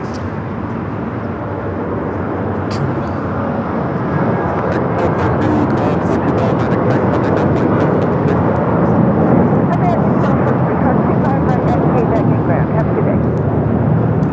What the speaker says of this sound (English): This is United Airlines 2449 taking off to Las Vegas on the 737-800.